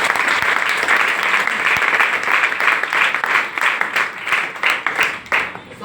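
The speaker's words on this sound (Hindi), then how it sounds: "थैंक यू, जोरदार तालियां" A live audience breaks into loud, sustained applause, dense clapping rolling on for several seconds at steady strength and thinning slightly near the end.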